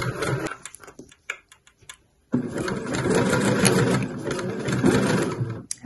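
A sewing machine stitches velvet or velour for a T-shirt neckline, with a few short bursts of stitching that give way to pauses and then a long, steady, close run of rapid mechanical whirring.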